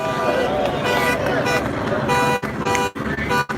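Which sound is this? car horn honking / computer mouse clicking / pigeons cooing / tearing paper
car horn honking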